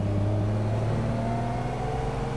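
A Ferrari 250 GT Coupe V12 engine runs steadily at close range, a loud, continuous mechanical drone with a slight shift in pitch partway through and no voices.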